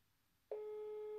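A telephone line tone sounds as a friend is dialled: after a brief click, a steady single-pitched electronic tone comes in and holds clearly to the end in a quiet setting.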